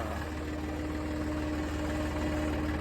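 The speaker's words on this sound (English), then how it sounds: "Already pulling the tractor around," A tractor engine idles steadily nearby during plowing and spring cleanup, a continuous low mechanical drone with faint vibration and no voices over it.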